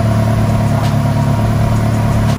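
A Ferrari 360 Challenge Stradale engine idles loud and close with a steady, rough hum and an uneven side, holding constant throughout with no talk.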